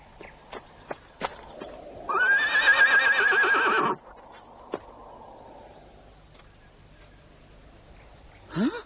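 A horse neighs once in a loud, quavering whinny lasting nearly two seconds, framed by scattered hoof clops and knocks before and after.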